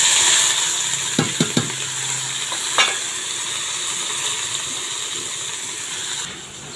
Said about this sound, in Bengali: কুচানো পেঁয়াজগুলো দিয়ে দেবো।